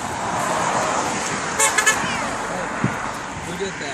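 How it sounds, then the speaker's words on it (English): A car horn sounds in two quick toots over steady traffic noise, moderately distant. "Somebody honked at you."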